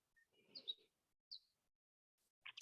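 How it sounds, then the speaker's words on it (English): Birds chirp outdoors in a quiet setting, a few short faint tweets spaced apart, ending with a brief sharper call. "The birds are chattering away."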